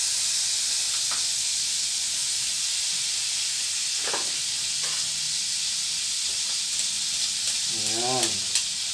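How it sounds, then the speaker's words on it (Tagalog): Garlic sautés in melted margarine in a pan for patang humba, a continuous close sizzle and hiss with occasional stirring; a brief voice surfaces near the end. "Igigisa lang natin ang ginagamit ko po dito ay itong margarine sa ating pagigisa."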